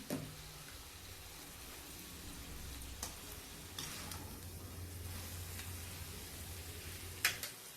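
Curry masala with turmeric frying in oil in an open pan, a low, steady sizzle with a few sharp clicks and clinks of a utensil scattered through it, no voices.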